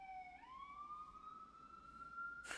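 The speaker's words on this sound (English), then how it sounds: "A lot of ambulances today." Ambulance siren wailing outside in the distance, a single rising tone that holds and sweeps, faint and muffled before cutting off abruptly.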